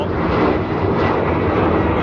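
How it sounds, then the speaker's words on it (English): An airplane takes off from Birmingham Airport, its engines making a steady, loud, broadband roar that holds without a break for the whole stretch. "If I turn around, there goes the plane."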